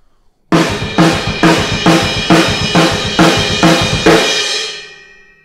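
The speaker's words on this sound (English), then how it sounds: "we're going to be playing quarters on our snare" Acoustic drum kit played at full tempo, with quarter notes on the snare and bass drum triplet fills: a steady run of eight loud, evenly spaced hits with a booming low end, ending in a fading ring.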